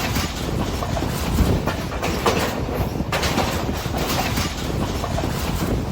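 A train in Sri Lanka running along the beach, steady clickety-clack of wheels on rail joints with a rolling rumble, heard close from aboard, without talk.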